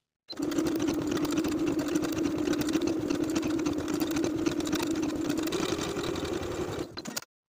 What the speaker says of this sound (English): Sew the sleeve into the armhole with a 5/8 inch seam allowance and your preferred stretch stitch.